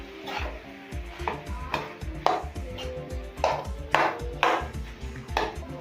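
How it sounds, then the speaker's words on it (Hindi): Mashed potato and spices are mixed in a bowl with repeated thudding, scraping strokes at a fairly even beat, each a short, close knock with a bright scrape on top. "देखिए इस तरीके से अच्छे से मिलाते हुए हम इसे चला लेते हैं।"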